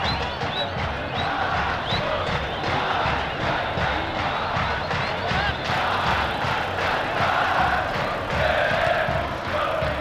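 Football crowd packing São Januário stadium, a dense continuous roar of many voices with chanting and shouts, steady and loud throughout.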